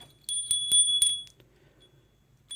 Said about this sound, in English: My altar bell.